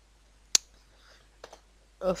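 Computer keyboard typing is heard as a few isolated, close clicks and key taps, followed by a brief burst of quiet speech at the end.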